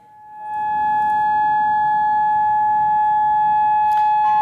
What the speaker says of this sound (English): Malin, in the background, you can hear that ear-piercing siren, and it is the all clear here in Amman